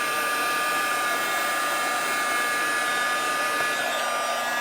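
A heat tool blows hot air across the back of curling craft paper to flatten it, giving one close, steady, loud whooshing drone that runs unbroken throughout.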